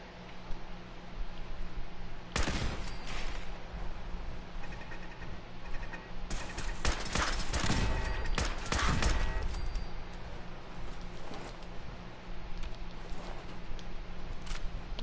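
Turrets firing in Fallout 4, with bursts of rapid gunfire in a hallway, one short volley then a longer cluster of shots over a steady low game ambience, fairly loud and close.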